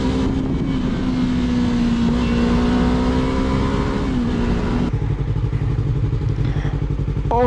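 A Yamaha R3 motorcycle engine on twisty roads, heard up close with a sustained engine tone that rises and holds steady, then shifts lower and rumbles on over wind noise.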